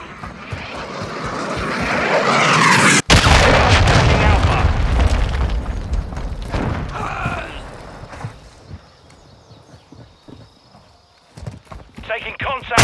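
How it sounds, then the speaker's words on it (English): A cruise missile explosion in Call of Duty Modern Warfare: a rising jet-like roar builds to a sharp, very loud blast, then a long rumbling decay fades into quieter battle noise. "Friendly cruise missile approaching target."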